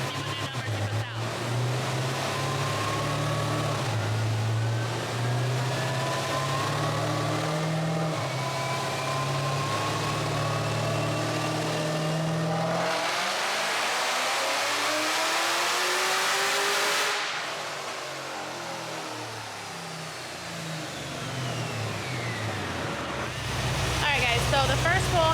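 A Cadillac CTS-V with a Jokerz ported supercharger makes a dyno pull, with a misfire flagged on the first run. The engine roars loudly as its pitch climbs steadily, drops off abruptly, then builds again near the end.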